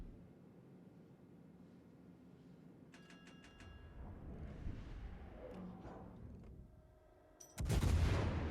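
Naval gunfire from the Japanese cruiser Iwami in World of Warships: Legends: a low rumbling battle backdrop, a few sharp cracks near the middle, then a loud, booming main-battery salvo bursting out near the end.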